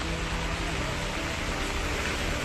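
Heavy rain pouring down during a Ganpati-season trip in the Konkan, a loud, steady broadband hiss that fills the whole clip without a break and with no voices.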